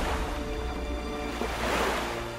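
Waterbending effect in an Avatar: The Rise of Kyoshi visual novel, a soft surging wash of water like a wave rolling in, steady and moderately quiet, swelling slightly toward the end with no voice over it.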